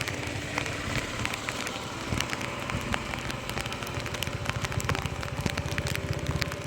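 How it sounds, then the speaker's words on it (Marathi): Heavy monsoon rain on a motorcycle ride along Konkan roads near Mahad: a dense, continuous roar of rain and wind buffeting the microphone, loud and unbroken, with no talking. "ह्या असा जर तुफान पाऊस असेल तर मे बी थोडा टाईम लागू शकतो."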